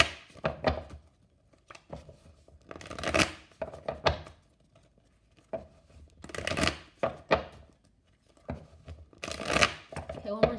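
Tarot cards are shuffled by hand in irregular riffling bursts and soft slides, close up, with quiet pauses between rounds.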